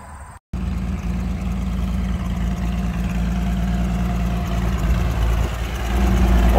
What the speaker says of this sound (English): You hear that one cylinder, but pretty responsive there when he hit the throttle.